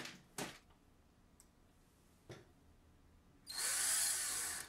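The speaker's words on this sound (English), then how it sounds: "I'm going to put a couple of screws down into the head." A power drill drives screws into the head of a plasticine clay bust: two brief clicks or taps, then a loud sustained whirring burst of the drill near the end, close by.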